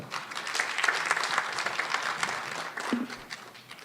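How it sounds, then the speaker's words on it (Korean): Audience applause at a sports-for-peace conference session, a dense steady roar of clapping from a hall crowd that holds for several seconds with a faint voice briefly breaking through near the end. "여러분 좀 기운 내서 크게 한 박수 드립시다."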